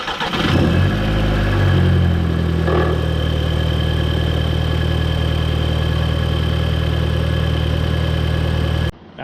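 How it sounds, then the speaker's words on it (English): A 2006 Volkswagen Jetta FSI engine cranks and catches after an oil change, flares briefly, then settles into a loud, steady idle heard up close for several seconds before cutting off at the end. "start the motor for a few minutes. Just let the oil circulate."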